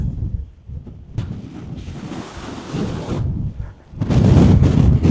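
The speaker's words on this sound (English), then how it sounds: "Oh, that wind is biting." Strong wind buffets the microphone on an exposed Scottish mountain top above Glen Coe's Lost Valley and Bidean nam Bian, a loud continuous roar with gusts that surge and ease, hardest in a final blast.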